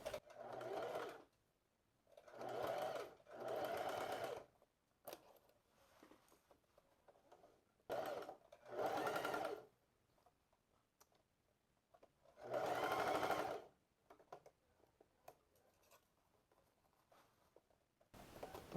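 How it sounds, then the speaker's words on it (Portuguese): Sewing machine stitching a wrap-style skirt-shorts, running in several distinct bursts of one to two seconds each, separated by quiet pauses while the fabric is repositioned. "Vai abrindo e costurando."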